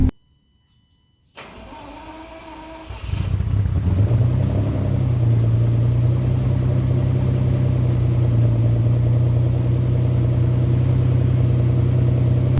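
A US fuel-injected Lamborghini Countach on a chilly Colorado winter morning, first a brief starter crank, then a second try that catches and rises into a revving roar before settling into a loud, steady, close idle.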